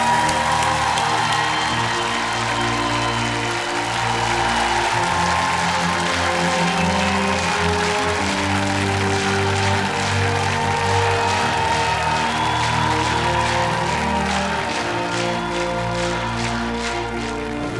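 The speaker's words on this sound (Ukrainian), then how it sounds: "Я хочу, чтобы аплодисменты очень громкие вызвучали этим двум талантливым девушкам." A large television studio audience applauds and cheers loudly and continuously for two female singers, with a music track playing underneath.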